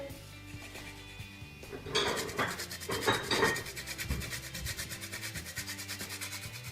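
A lemon is grated for zest in a home kitchen, a quick series of close, rhythmic rasping scrapes that grow louder partway through and continue steadily.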